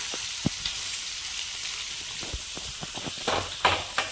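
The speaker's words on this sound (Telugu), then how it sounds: "ఉల్లిపాయ అంతా చల్లగా చక్కగా వేసి ఒక 5 నిమిషాల పాటు కొంచెం ఎర్రగా వేగనిస్తున్నామండి" Onion and green chillies fry in a pan with a soft, fairly quiet sizzle, broken by occasional knocks and stirring clatter that grow busier toward the end.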